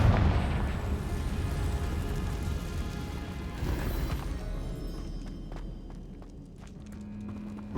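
A spell blast erupts in Hogwarts Legacy, a deep rumbling boom that swells loudly at once and slowly fades over several seconds, with a few faint clicks and a thin tone trailing at the end.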